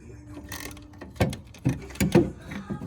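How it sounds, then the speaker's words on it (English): Quarter-inch ratchet clicking in short bursts as it unscrews a bolt on an Audi 3.0 TFSI engine, several sharp mechanical ticks close by in a workshop. "here's my 1/4-inch ratchet"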